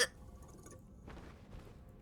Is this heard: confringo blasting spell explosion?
no